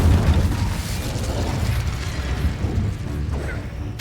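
A fiery Incendio spell bursts out in Hogwarts Legacy amid heavy game noise: a dense, roaring rumble with boomy low thuds runs steadily throughout and swells again at the very end.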